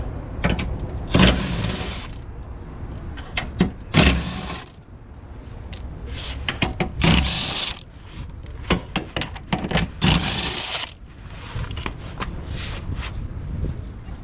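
Mechanical clunks, clicks and ratcheting from tools undoing four 10mm sway bar bushing bolts beneath a Ford Territory, a sharp series of near taps and thunks with a low hum between them and no speech.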